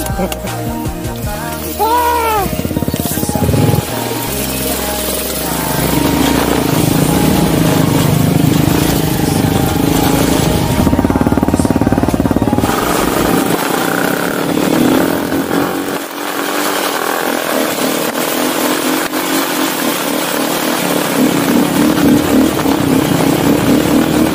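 A motorcycle engine drones steadily throughout on an uphill trail in San Mateo in light drizzle, revving and shifting pitch as it rides, with rushing wind noise over it.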